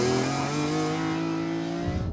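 BMW E46 M3 CSL with a single-clutch gearbox launching hard, a loud close engine note climbing steadily in pitch under full throttle, alone without talk.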